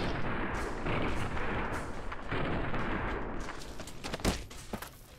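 Gunfire in Fallout New Vegas: loud, dense shots and blasts fill the whole stretch, with a sharper crack near the end and no talk.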